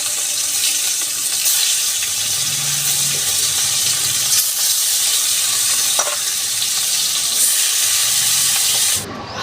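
More bhetki fish pieces go into hot mustard oil and fry with a loud, dense, steady hiss of sizzling, a few light utensil taps, and a sudden drop in level at the very end.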